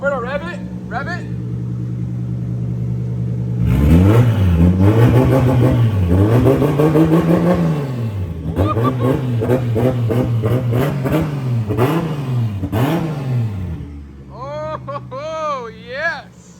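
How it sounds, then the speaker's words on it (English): A Toyota 1.5JZ car engine revs repeatedly on its first start, rising and falling in loud, close bursts with a steady idle between, while people talk and cheer over it. "Alberto, rev it."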